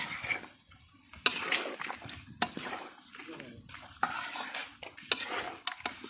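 Rooster meat being stirred and mixed in a pot for a picnic meal, with repeated clanks and scrapes of a metal spoon against the pot, close and irregular, and voices talking nearby.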